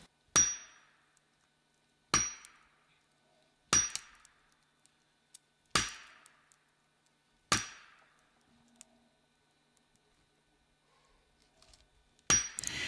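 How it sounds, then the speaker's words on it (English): A wedge is hammered into a tree being felled, five sharp metallic strikes spaced about two seconds apart with pauses between, then a final burst of blows near the end, crisp and fairly close in a quiet forest. "Wayne hammers the wedge and waits, then hammers and waits again"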